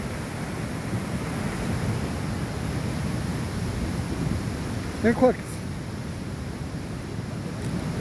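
The flooding Tomebamba river in Cuenca, Ecuador rushes as a loud, steady roar of churning water, with a person briefly speaking over it.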